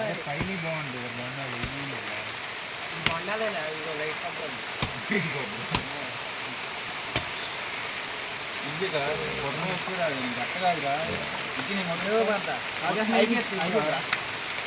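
A steady, dense hiss of heavy rain runs throughout, with people talking over it in the middle and toward the end.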